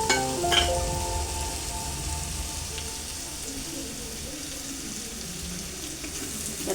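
Green chili pieces sizzle in a pan for a Konaseema-style fish curry, giving a continuous, even hiss with a slight burst of crackle at the start and no speech.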